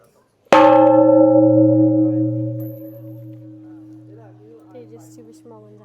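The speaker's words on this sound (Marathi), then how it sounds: "आता मी बेल वाजवणार आहे" A single bell is struck once with a sharp attack, then rings on with a long, slowly fading tone. Near the end, faint voices can be heard under the decaying ring.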